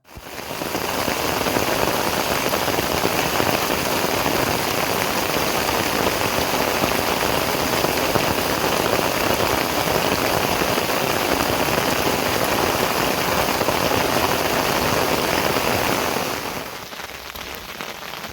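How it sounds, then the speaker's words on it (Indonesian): Heavy rain pours onto a mountain hiking trail on Mount Lawu along the Cetho route, a dense, constant hiss of drops that lasts most of the time before easing slightly near the end. "kehujanan di trek menuju pos 4"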